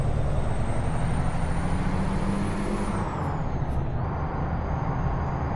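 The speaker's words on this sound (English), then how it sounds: "now things feel pretty icy whenever I gotta slam on the brakes" A Freightliner FLB cabover semi truck in American Truck Simulator rumbles loudly as its air brakes hiss, with a high whine that drops in pitch while the rig slows on icy road.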